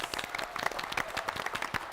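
Brief burst of audience applause for a school quiz team after time is called, scattered claps from a modest crowd, fairly faint and ending quickly.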